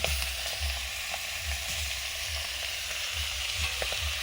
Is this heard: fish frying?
yes